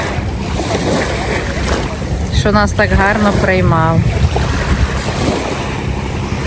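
Sea waves and wind on a Hurghada resort shore by the sea, a constant loud rushing roar with wind buffeting the microphone, while someone speaks briefly over it.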